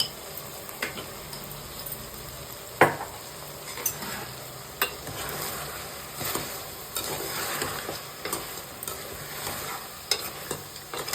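Mutton kurma sizzles in a pan with chili powder while a spoon stirs it, steady frying hiss broken by repeated scraping strokes, close and alone without voices.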